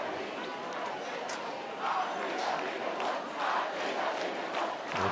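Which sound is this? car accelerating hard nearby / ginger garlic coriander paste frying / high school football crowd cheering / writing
high school football crowd cheering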